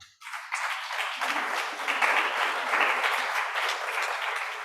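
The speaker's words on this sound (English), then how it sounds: "Let us welcome him with a clap." Audience at a climate justice summer school workshop in Nairobi clapping to welcome a speaker, rising quickly from quiet into a steady, fairly close burst of many hands that holds through to the end.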